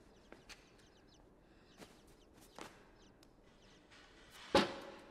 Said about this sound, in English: Here are more chickens.